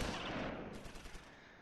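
Dense burst of rapid small-arms and machine-gun fire in the Close Combat IV war game, loud and close, crackling continuously for under two seconds with no voices.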